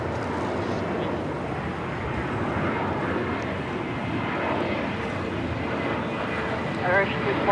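KLM Boeing 777 at LAX, its engines producing a steady, broad jet roar that stays loud throughout, with a faint radio-style voice beneath.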